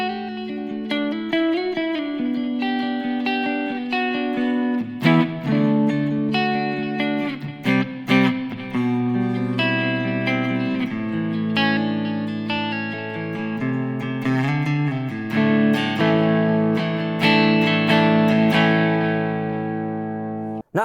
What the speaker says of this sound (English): There are some reverb.